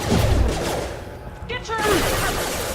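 Sustained bursts of sci-fi gunfire fill a Mass Effect 2 firefight, loud and continuous, with a dip in the middle where a voice cuts through before the shooting surges back.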